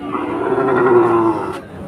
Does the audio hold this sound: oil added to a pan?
no